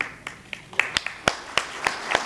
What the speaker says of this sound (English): I'll let you clap before I tell you how we got there